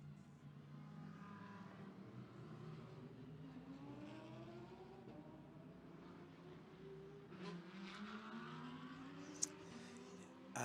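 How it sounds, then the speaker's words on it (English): GT race car engines rumble and drone steadily in the background at the Macau Grand Prix circuit, with rising and falling revving tones and a faint crowd murmur; one sharp click near the end. "you can hear in the background GT engines getting ready for the final race"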